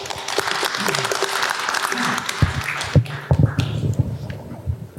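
Audience applause at a ceremony for Ulsan's disaster safety center: dense, steady clapping from a crowd fills the first half, then thins into scattered, uneven claps that trail off.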